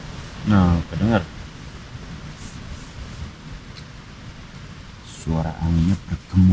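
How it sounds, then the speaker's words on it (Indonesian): Strong wind roars at a mountain camp during a storm, a steady rushing noise between and beneath bursts of people talking nearby. "suara anginnya bergemuruh"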